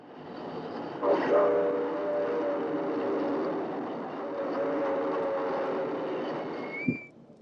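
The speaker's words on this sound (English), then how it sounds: "San Joaquin Daylight Train 51 heads west behind an MT Class 482." A Santa Fe San Joaquin Daylight train pulled by a steam locomotive rumbles steadily past in a continuous wash of noise, with drawn-out horn or whistle tones sounding over it and a sharp clank near the end.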